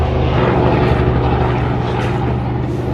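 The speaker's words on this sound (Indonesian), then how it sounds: "Barusan kita ditemukan oleh helikopter. Helikopter itu sedang mencari kita." Steady, loud rotor and engine drone from a helicopter flying overhead near the Chernobyl nuclear plant zone, a continuous low throbbing hum filling the whole stretch with no voices.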